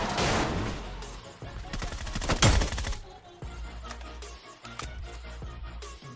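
Rapid gunfire bursts in the mobile battle royale game PUBG New State, loud and close, with dense automatic volleys and single shots cracking over a busy in-game background.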